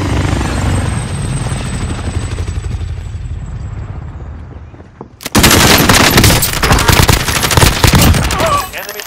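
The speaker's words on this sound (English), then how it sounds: "Helicopter here." A helicopter in the Call of Duty Modern Warfare game drones steadily, then the scene bursts into loud, dense machine-gun fire over the rotor noise, close and continuous.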